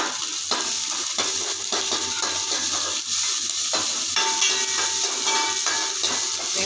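Onions go into hot oil after mustard seeds have popped, for coconut milk rasam, frying in a dense continuous sizzle with stirring and a few utensil scrapes, close and loud, nobody talking.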